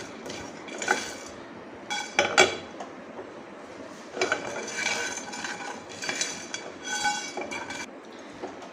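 Spices roast in a pan, stirred with a metal utensil that scrapes and clinks against it in irregular bursts, close and fairly quiet between strokes.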